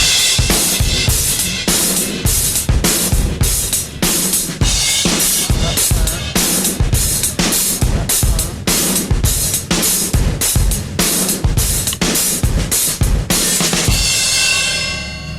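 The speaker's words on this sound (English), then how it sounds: "I'll play that, the slamming way with the 8th notes, and then I'll throw in the new syncopated rhythm" A drum kit plays a driving pattern of steady 8th notes that breaks into a syncopated rhythm, with loud crashing cymbals and punchy kick and snare hits. It runs continuously and close, then rings out at the end.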